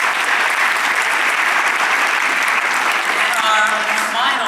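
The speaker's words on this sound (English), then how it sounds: "Give Chris a round of applause." Loud, full audience applause at a business event at Navy Pier, a dense continuous roar of clapping with faint voices and cheering mixed in toward the end.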